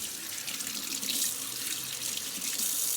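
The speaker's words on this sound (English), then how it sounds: "so we're gonna go ahead and rinse it off" A cured egg yolk rinsed under a running tap, a steady hiss of water splashing into a sink, close and unbroken throughout.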